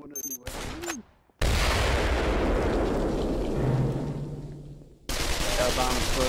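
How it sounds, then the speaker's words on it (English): A bomb detonates in the Pavlov VR shooter during a desert Search and Destroy round, a loud, sustained roaring blast that fills several seconds and fades out, preceded by brief game sounds. "That bomb exploded."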